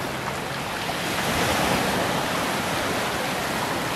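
Steady ocean surf rolling onto the shore at Siesta Key beach in Sarasota, a continuous broad wash with some wind noise and no speech.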